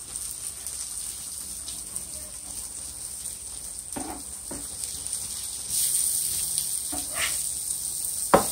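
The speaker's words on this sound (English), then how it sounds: "I'm going to cook these onions a little bit long because I want them to be nice and tender." Onions sizzle steadily in a hot pan, with a constant bright hiss and occasional louder pops and crackles, close by and without any talking.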